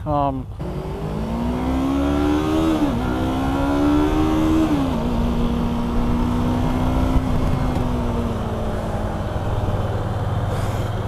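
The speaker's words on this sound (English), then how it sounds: "Boy, do you have to rev the piss out of this thing to get it to go" A Yamaha R3 motorcycle engine revs up with rising pitch, drops back, then holds a loud steady drone, close and continuous.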